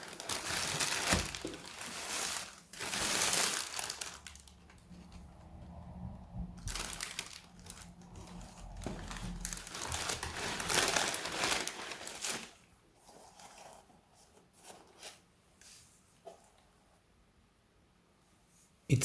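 Paper wrapping crumples and tears in bursts while New Balance Classic 574 sneakers in dark navy gray are unboxed, loud rustling and crackling up close, fading to quieter handling near the end.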